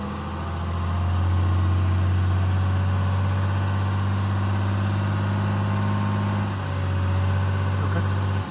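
A 2012 Ram diesel pickup with a failed variable-geometry turbo, its engine held at a steady raised idle around 2,000 RPM, a strong continuous low drone that dips briefly near the end, no voices.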